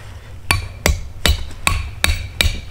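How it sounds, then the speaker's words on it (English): A metal trap stake for a raccoon trap is driven into the ground with six evenly spaced, sharp hammer blows, each a close, ringing strike about a third of a second apart. "Just take your stake, drive it down as far as you can."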